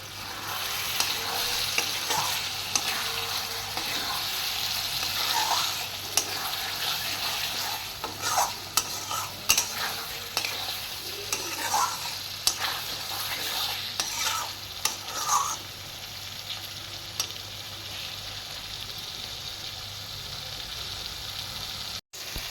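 Spice masala for a Bengali fish curry being stir-fried in oil until the oil separates, a steady close sizzle with repeated scraping strokes of a spoon against the pan, continuous for the whole stretch with no talk.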